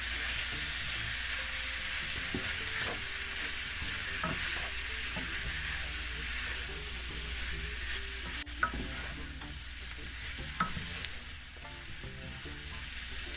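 Green beans, scallions and onions stir-fry for chicken chow mein in a hot pan, a steady bright sizzle with occasional scraping and clanks of the utensil, moderately close and continuous with no talking.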